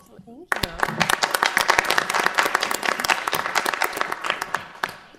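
A small group at a Fargo Planning Commission meeting claps for the commission chair, the individual hand claps sharp and distinct, rising quickly after a short lead-in and continuing steadily before tapering.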